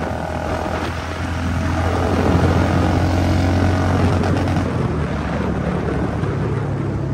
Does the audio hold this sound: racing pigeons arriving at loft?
no